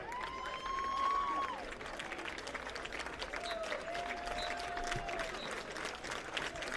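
Stadium crowd applauding new members of the Bridgewater College Athletic Hall of Fame at a college football game, a steady wash of clapping and cheers with a few whistles, moderately distant and continuous.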